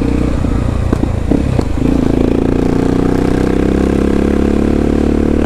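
A motorcycle engine idles with a steady low throb, a few clattering revs early on, then settles into an even rumble.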